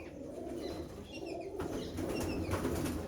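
Soft, low cooing from a Lal Cheena pigeon rises and falls over a few seconds against a faint background hum, with some higher chirps from other birds nearby.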